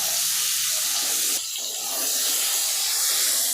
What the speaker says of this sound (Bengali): পটলগুলোকে এইভাবে তেলের উপরে একটু নাড়াচাড়া করতে হবে।